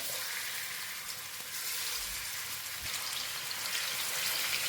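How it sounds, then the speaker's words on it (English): Steak sizzles in olive oil in a pan with a steady, crackling frying hiss, moderately quiet and even throughout, with no voices. "Now add olive oil in your pan. Now add your steak"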